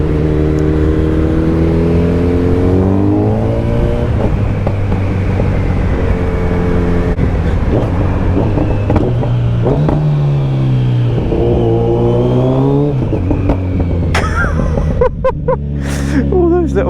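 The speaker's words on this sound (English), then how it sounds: "All those little pops and the rev matches sound incredible." A motorcycle out on an early-morning seafront road near a pier revs and downshifts, with engine tones rising and falling through gear changes and sharp pops crackling near the end, loud and close.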